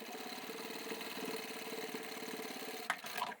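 A sewing machine stitching through the layers of a crossbody satchel runs in a fast, steady mechanical chatter, close and fairly quiet, then stops with a couple of sharp clicks near the end.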